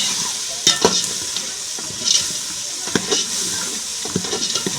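Red chilli stirred with a spoon in a sizzling pan, an even frying hiss under repeated metal spoon strikes and scrapes, close and loud, with no talk.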